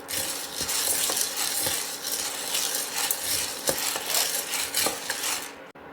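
Cleaned millet sprouts being dry-roasted in a metal pan, with a utensil repeatedly scraping and stirring them. The clatter is close and continuous, with a faint sizzle underneath and no talking.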